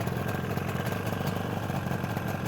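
A 1973 Yamaha RD350 motorcycle engine idles after a cold start, a steady, close, moderately loud running drone with an even pulse and no talking.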